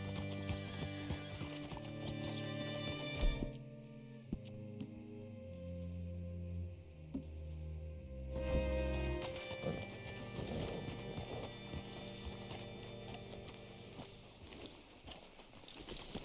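Horse hooves clip-clop at a walking pace in the video game Red Dead Redemption 2 over steady background music, with a horse whinnying partway through.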